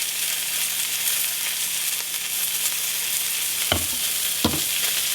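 Venison tenderloin sizzles in butter in a hot pan, a steady, close frying hiss with two sharper crackling bursts near the end.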